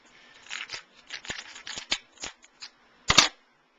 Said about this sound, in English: if you've got a nice thing of lobster shears or just kitchen shears, just cut right in this underbelly right here